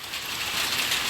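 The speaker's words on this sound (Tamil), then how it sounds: "செங்கல்பட்டு மாவட்டத்தில் ஒரு சில இடங்களில் லேசான தூறலாகவும் பல்வேறு இடங்களில் கனமழையாகவும் பெய்தது" Heavy rain pouring down during a storm in Chengalpattu district, Tamil Nadu, a steady dense hiss of falling water heard alone and close, without voices.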